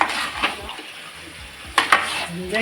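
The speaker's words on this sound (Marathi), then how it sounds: "आता व्यवस्थित मिक्स कर एकदम" Crab curry being stirred in a pot, a spoon scraping and clanking against the metal in irregular strokes with a faint sizzle beneath, two sharper clinks near the end.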